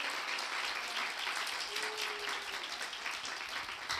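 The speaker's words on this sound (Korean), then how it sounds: "박수 한번 하겠습니다" A church congregation applauds steadily during a worship service, a dense even patter of many hands held at a moderate level throughout.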